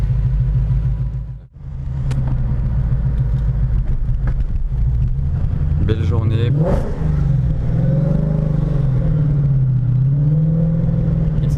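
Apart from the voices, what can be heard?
825 hp supercharged Sutton Mustang engine with exhaust valves open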